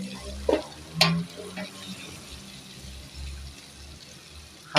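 Vegetable bhaji frying in a pan and being stirred, a soft sizzle broken by a few sharp spatula scrapes and clacks against the pan, close and moderately loud.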